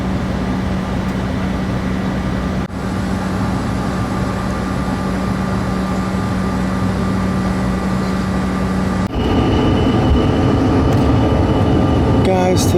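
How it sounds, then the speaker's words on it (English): Cabin noise of a CRJ-900 regional jet taking off from Philadelphia, a loud steady engine roar with a low hum that surges and grows harsher near the end as thrust builds, heard from inside the aircraft. "taking off from Philadelphia"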